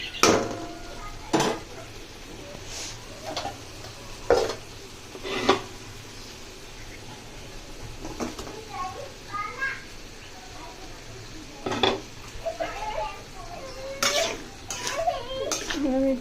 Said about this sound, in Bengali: আমি টমেটো দিয়ে একটু কষাই দিই।